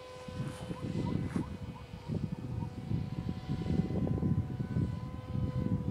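A small Beta 1400 model airplane's engine drones steadily and continuously outdoors in strong wind, a moderately loud buzzing hum with gusty rumble underneath, fairly distant and unbroken throughout.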